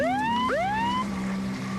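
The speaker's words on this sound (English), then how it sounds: "Ambulance!" An ambulance siren wails loudly and close by, a steady tone sweeping down and up again with a bright, buzzy edge, and no voices over it.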